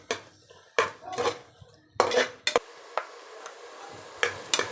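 A spoon scraping and clanking against a pan while tomatoes are sautéed for tomato rice, several sharp metallic knocks in bursts with a quieter sizzling hiss between them.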